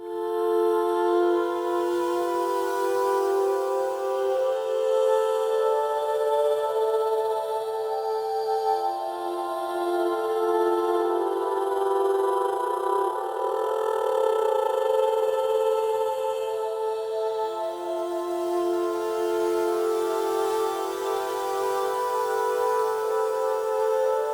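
A sustained Logic Pro Alchemy synth pad drones steadily, its tone slowly shifting and morphing in timbre through snapshots over about twenty seconds, with no voices.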